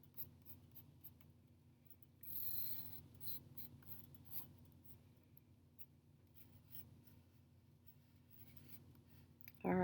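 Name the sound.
darkening drawn leaf lines on paper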